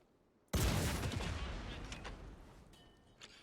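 A rocket launcher fires in the video game Caliber, a single sharp loud blast followed by a long rumbling decay, with a faint mechanical tone near the end.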